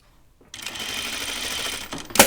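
A sewing machine stitching a caftan dress runs in a steady whirring burst after a brief pause, close and fairly loud, ending with a sharp clatter.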